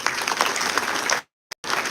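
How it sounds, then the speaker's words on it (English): Audience applause at a law and AI conference held at the Delhi High Court, brisk clapping that cuts off abruptly, followed by a short blip and a brief return of clapping. "That deserves a round of applause"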